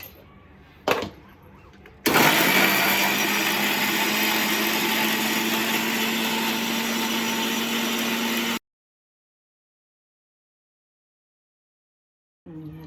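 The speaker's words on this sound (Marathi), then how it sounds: "आता मी मिक्सरला लावून बारीक करून घेते" Mixer grinder blending watermelon pieces in a kitchen: a short knock, then a loud steady motor whir with a grinding hum that runs about six seconds and stops abruptly, followed by silence and a brief final sound.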